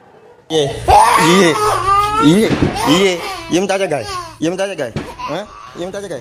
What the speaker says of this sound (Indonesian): Suara tangis balita usia 1 tahun 2 bulan ini